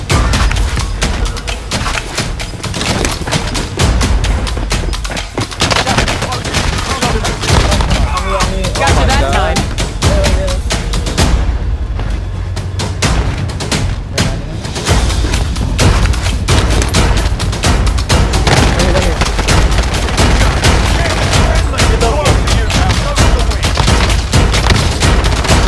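Sustained heavy gunfire in a Call of Duty Warzone duos battle royale match, dense overlapping bursts and booming impacts running almost without pause, loud and close, with a brief lull partway through.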